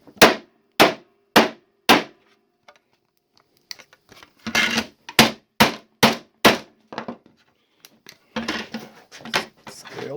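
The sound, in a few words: hammer striking Mirock Squares plastic ruler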